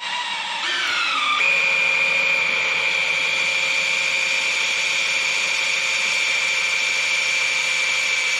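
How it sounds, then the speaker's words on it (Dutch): A power drill driving the oil pump of a Mopar 440 V8 engine spins up within the first second, then holds a steady, loud, high-pitched whine with a faint grinding hum underneath. "de boormachine op de oliepomp"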